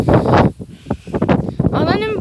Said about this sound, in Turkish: Çünkü şu an çok rüzgarlı hava